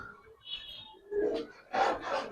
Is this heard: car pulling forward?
no